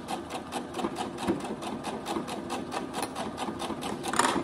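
A domestic sewing machine stitches fabric for a budget envelope, a steady, fast mechanical whirr with a rapid needle rhythm, close and continuous, with no talking.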